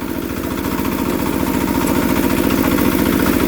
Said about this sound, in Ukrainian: Включаємо фрезу і помаленько, на пів шишечки, як то кажуть, приступаємо.